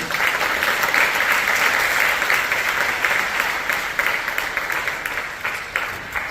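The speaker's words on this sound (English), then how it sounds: "So can we give them a round of applause," A high school wind symphony concert audience gives loud, dense applause for the school administrators, continuous sustained clapping that fades slightly toward the end.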